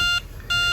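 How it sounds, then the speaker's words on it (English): A MOCREO freezer sensor hub sounds its out-of-tolerance alarm as a fridge warms: two bursts of an electronic beep separated by a short pause, each a steady high-pitched tone with harmonics, fairly loud and close. "it starts giving a beep here on the hub."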